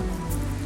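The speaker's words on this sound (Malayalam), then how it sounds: "മഴ" Steady rain hissing across a surface, a dense even wash of sound with a low hum beneath, continuous throughout.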